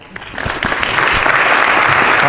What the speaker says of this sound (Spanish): vamos a recibir y dar un fuerte aplauso